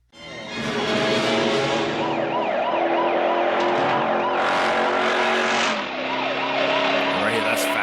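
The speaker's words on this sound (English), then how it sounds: "This cop here is like going fast through parking lots and jumps and stuff." A police car races through parking lots and makes jumps during a movie chase scene, with its wailing siren, roaring engine and screeching tires sounding loud and continuous, overlapping police sirens heard throughout.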